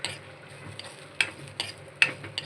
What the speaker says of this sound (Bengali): আমি এই যে শুটকি ভর্তা রসুনটা সুন্দর করে ডালতাছি।